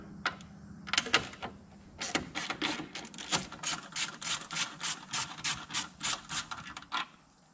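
A 10mm stud comes off the coolant expansion tank of a 2024 Ford Mustang GT 5.0, with close, rapid ratcheting clicks in short repeated bursts, faint at first and then steady and regular.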